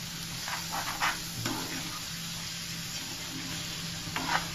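Fish egg curry bubbles and sizzles steadily in a pan, with soft stirring scrapes now and then, close and unbroken, with no voices.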